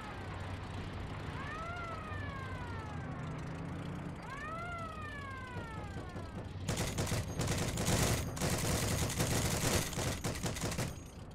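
Gunfire in a tank video game, heard as a dense burst of rapid shots that starts partway through after a stretch of engine rumble and rising tones, loud and continuous to the end, with no talking.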